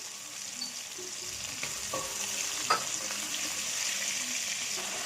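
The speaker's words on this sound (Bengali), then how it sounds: "টমেটো গলা যত পর্যন্ত আমি গলে যাবে একদম, সে পর্যন্ত আমি একটু নাড়াচাড়া করবো" Tomatoes frying in a pan for fish curry, a soft steady sizzle with occasional scrapes and clinks as they are stirred, no talking.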